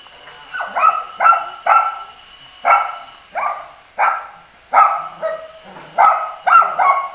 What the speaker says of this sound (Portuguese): Olha o cachorrão.